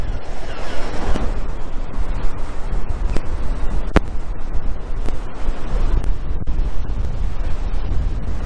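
Big waves crash and surge loudly nearby at Land's End beside a shipwreck, with roaring spray and heavy wind buffeting the microphone, a few sharp knocks breaking through.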